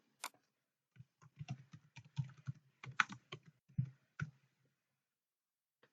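An event name is typed on a computer keyboard: a close, quiet burst of crisp key clicks in an uneven typing rhythm, then silence.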